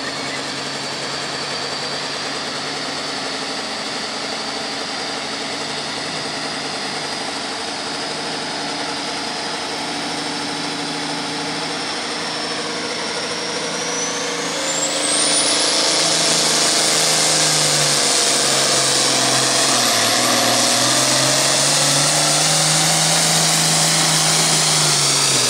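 A Light Pro Stock truck pulls the sled at a truck pull in Paris, Missouri: a loud, steady engine roar that jumps sharply in pitch and volume partway through, then stays at a strained, sustained howl with no speech over it.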